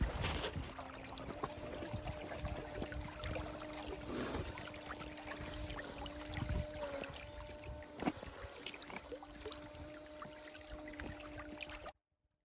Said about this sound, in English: I was able to get some decent speed out of the boat